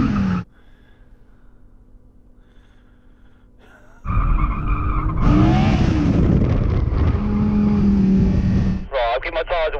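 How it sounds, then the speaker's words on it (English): Car in race mode being revved to warm up its tyres: a quiet idle hum, then a sudden loud surge of engine revving with rising and falling pitch, ending in a brief lull and another burst. "I'll give my tyres a warm up, Yanni"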